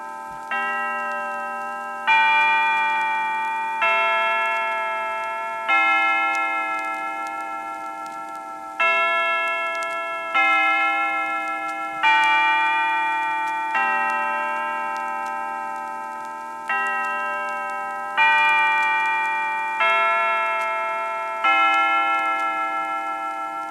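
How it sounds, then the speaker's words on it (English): Westminster chimes ring out in Faneuil Hall in Boston, an hourly melody of sustained bell tones struck in repeated four-note phrases, each strike ringing and decaying clearly with no voices over them. "you become aware of the melodic message of Westminster chimes"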